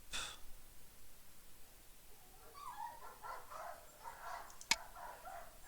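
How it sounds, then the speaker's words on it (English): Dogs fight outdoors at a distance, with faint scattered barks, yips and whimpers drifting in over quiet room tone. "There are dogs right outside fighting."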